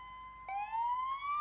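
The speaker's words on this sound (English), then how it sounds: "we'll pretend the ambulance finally comes to the rescue here" Ambulance siren in the BeamNG Drive video game, a clean rising electronic wail that climbs steadily in pitch, fairly close and alone.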